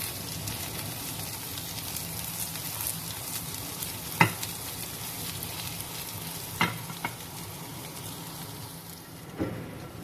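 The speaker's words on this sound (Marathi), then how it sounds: "मध्ये मध्ये असं टॉस करत राहायचं म्हणजे बटाटा सर्व बाजूनी व्यवस्थित ग्रिल होईल" Potatoes sizzle and fry steadily in a pan for grilled potato raita, with a few sharp clanks as the pan is tossed or stirred.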